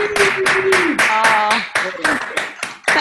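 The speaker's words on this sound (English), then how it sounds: "I'll unmute everybody and we'll give Kelly a round of applause." Participants on an online group call clap for a speaker, producing uneven, separate hand claps that arrive in bursts alongside voices talking at the same time.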